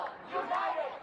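Large crowd of climate change demonstrators marching in city streets, a dense murmur of many voices and shouts, steady and fairly close throughout.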